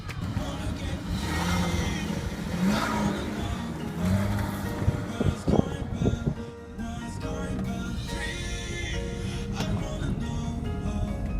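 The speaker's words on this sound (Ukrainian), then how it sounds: "автомобіль без шуму, ми чуємо тільки двигун" A Jaguar X-Type 2.5-litre engine hums steadily throughout while driving, with a low continuous drone and a brief dip partway through, with a voice talking over it.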